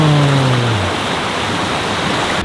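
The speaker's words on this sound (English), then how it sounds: "I mean, we've got a waterfall back there." A waterfall rushes nearby in a majestic outdoor wilderness setting, a loud, steady broadband roar of falling water holding constant throughout, with a brief low tonal hum fading out at the very start.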